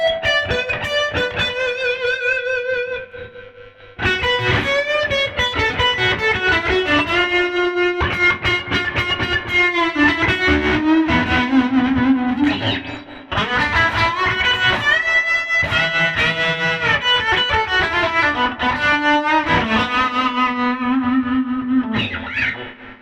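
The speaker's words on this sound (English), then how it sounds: "now I have the Duelist on, but I've got the vibrato channel on and the reverb channel on" Electric guitar through a Fender Princeton Reverb amp with a Duelist pedal, vibrato and reverb channels engaged at bedroom volume, playing sustained chords and melodic lines with a brief pause near the start; no talking.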